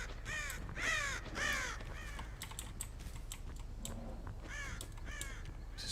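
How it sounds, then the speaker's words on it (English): Crows cawing in the horror game Dead by Daylight, several harsh calls in quick succession that return after a pause, with computer keyboard typing clicking underneath. "There's birds."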